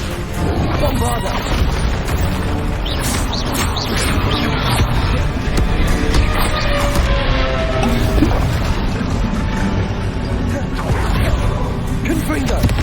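Bombarda explosion spells from the Hogwarts Legacy video game go off in a busy battle, heavy booming bursts repeating over a thick bed of combat effects and score, loud and close, with voices mixed in.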